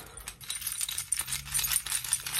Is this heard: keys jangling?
yes